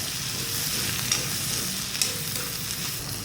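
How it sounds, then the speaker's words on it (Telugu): Bitter gourd pieces fry in a pan with salt while being stirred, making a dense, steady sizzle with a couple of sharper scrapes and clinks. Close and continuous, with no voices. "ఇప్పుడు బాగా మిక్స్ చేసుకోండి"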